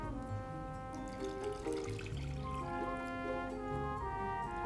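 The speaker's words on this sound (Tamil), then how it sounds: "2 கப் தண்ணி எடுத்துக்க போகிறேன்" Water is poured onto jaggery for paanagam, a soft, faint trickle heard under steady background music.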